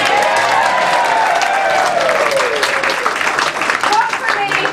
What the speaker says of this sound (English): I'm going to give her some applause, Nancy